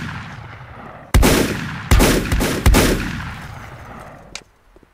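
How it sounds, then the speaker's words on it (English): Enemy gunfire in the game Volcanoids: three loud, sharp bursts of shots about a second apart, each trailing off in a long fading echo, then a lone faint crack near the end. "Got angry and started shooting."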